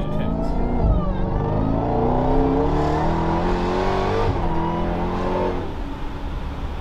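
Jeep Trackhawk engine revving hard, with a steady supercharger whine riding over a loud, continuous roar that rises and falls close by.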